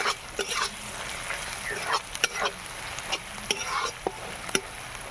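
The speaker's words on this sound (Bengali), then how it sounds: "এখানে কাশ্মীরি লঙ্কা গুঁড়ো দিচ্ছি 1 চামচ। মশলাটা ভালো করে কষিয়ে নেব।" A spatula stirs masala spiced with Kashmiri chili powder in a hot pan for a chicken and pointed gourd curry, giving continuous frying sizzle punctuated by sharp scraping clicks at an irregular pace, close and fairly loud.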